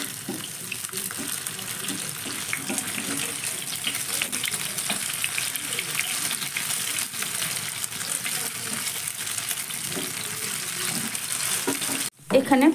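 Paneer pieces sizzling loudly in hot oil during chilli paneer cooking, a continuous close crackle with faint shifting and turning sounds as the pieces are flipped, ending with a brief cut and a burst of noise.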